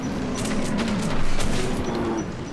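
Gunfire in the video game Metro 2033: a dense, continuous fusillade of shots over a low droning background, steady and fairly loud throughout with no talk.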